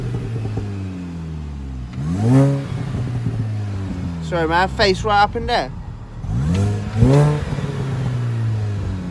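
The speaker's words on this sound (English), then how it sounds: "it's got cracks, pops, crackles, bangs." A 2000s R53 Mini Cooper S JCW engine revs repeatedly nearby, with rapid exhaust pops and crackles between rising revs; someone speaks briefly in between.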